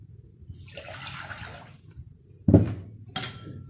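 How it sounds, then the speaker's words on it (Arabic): Water is poured from a large glass onto a kilo of sugar for honey syrup for griwech pastries, a hissing pour lasting over a second, followed by two sharp splashes and clinks. "هو الأول عندي كيلو سكر، كاس كبير ذاك، باش نعملوا عليها نفسها ماء."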